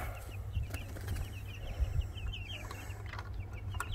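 Chickens clucking softly over steady low background noise, with occasional brief chirps and a few louder bumps; no voices.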